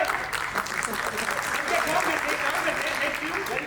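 Continuous theatre audience applause, many hands clapping in a thick, even wash from start to finish, with faint voices mixed underneath.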